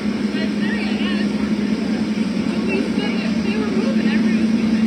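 A 1975 Ford 2000 antique tractor drives past in a county fair parade, its steady engine drone loud and continuous throughout with a constant low hum, while a man announces over it.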